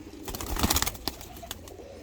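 Soft, low cooing from pigeons, a few murmuring calls over a faint background with occasional flutters and clicks.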